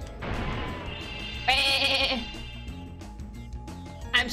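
A loud, wavering sheep bleat from the video game Spyro: Year of the Dragon sits over a busy background of music and effects, with another short bleat at the end.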